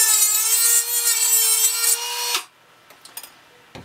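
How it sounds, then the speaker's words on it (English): A Dremel cutoff wheel grinds a notch into a circuit board, giving a loud, steady high-pitched whine with a low tonal hum for over two seconds. It then stops abruptly, followed by a few faint clicks and taps. "when time comes to cut off something in the workshop, if you have a Dremel, these wheels are an ideal way to do it"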